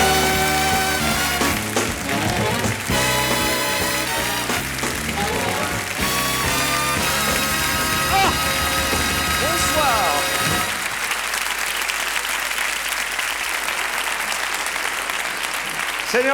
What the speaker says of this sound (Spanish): El aplauso para el señor Joe Wallis y su ayudante Líbero.